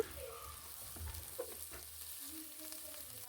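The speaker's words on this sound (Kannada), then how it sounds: "ಸ್ವಲ್ಪ ಜೀರಿಗೆ ಹಾಕ್ಕೊಂಡು ಫ್ರೈ ಮಾಡ್ಕೋಬೇಕು" Chopped ingredients and cumin seeds frying in oil for Kerala-style kalthappam, a soft, steady sizzle with faint stirring scrapes, quiet and close, with no talking.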